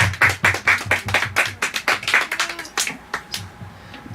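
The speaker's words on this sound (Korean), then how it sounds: "우리 하나님께 영광의 박수 올려드립니다" A church congregation claps together at a Sunday worship service in steady rhythmic bursts, close and loud, the beat gradually loosening and thinning toward the end, with no talking over it.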